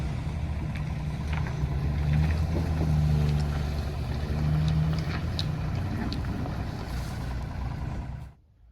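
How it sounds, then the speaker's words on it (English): A Vermeer BC1000XL diesel-powered wood chipper of about 95 horsepower, rated for 12-inch material, drones steadily nearby with occasional clunks before the engine cuts off abruptly at the end. "This is a diesel powered chipper, about 95 horsepower."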